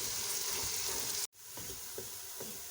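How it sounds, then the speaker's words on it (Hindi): Onions frying until golden brown in a pan, a loud, steady close sizzle that cuts out for an instant and returns with faint stirring scrapes. "अब मैं प्याज जो है गोल्डन ब्राउन कर लेती हूँ"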